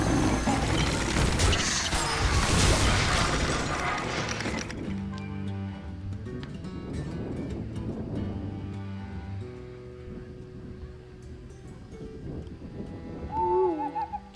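An owl card in Hearthstone plays with a hoot effect amid the game's layered clatter and mechanical in-game sounds, and a short hooting call stands out clearly near the end.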